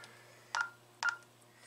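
Two short beeping keypad tones on a Honeywell Vista 20P alarm panel, evenly spaced about half a second apart, clear and close over a faint steady hum, no talk.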